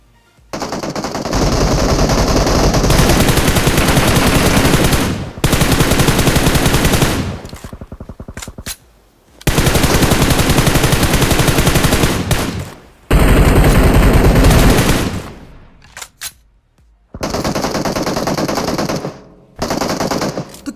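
Heavy automatic gunfire as two squads fight in PUBG, loud sustained bursts of rapid shots lasting several seconds each, broken by short pauses, with no talking.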